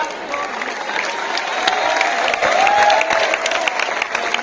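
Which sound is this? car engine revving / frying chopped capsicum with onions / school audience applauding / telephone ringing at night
school audience applauding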